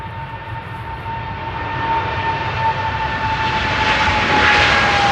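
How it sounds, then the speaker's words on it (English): Jet airliner with GE90 engines taking off at Amsterdam airport, a loud, steady roar with a rising whine that grows louder as the aircraft powers up and passes, no talking. "GE90 time for the rumble."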